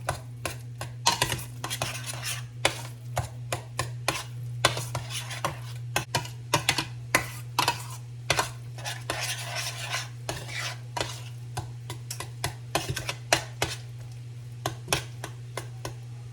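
Potatoes being stirred in a pot with butter and seasoning powder: repeated scraping and clinking of a utensil against the pot in an irregular rhythm over a steady low hum, close by and moderately loud.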